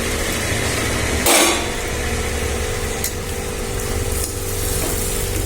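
Eggs dropped into a hot frying pan for a simple egg fry, a loud steady sizzle of frying with a brief bright crackling burst as they hit the oil, alone with no talk.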